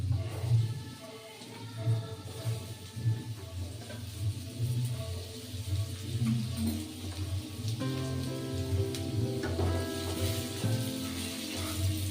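Potato pieces frying in a generous amount of hot oil in a home kitchen, giving a steady, dense crackling sizzle with a few faint background clatters and no talk.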